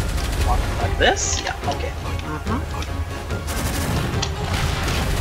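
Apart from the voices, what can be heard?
gunfire and explosions in Gunfire Reborn video game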